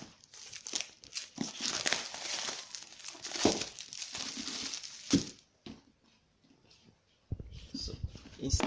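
Plastic covering torn and crinkled off an Itel S32 phone box, close and loud bursts of crackling rips and crumpling for about five seconds, then a quiet pause and more rustling at the end.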